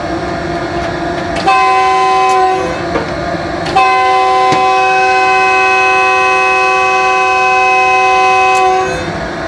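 A long train whistle from the 102 Down Raftaar Express sounds at departure. It blasts in several sustained tonal bursts, loud and close, with brief gaps between them and a final cutoff near the end.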